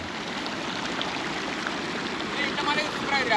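Kosasthalaiyar river running full of water at the Velliyur check dam near Thamaraipakkam, a steady, unbroken broadband rush of flowing water that swells slightly toward the end.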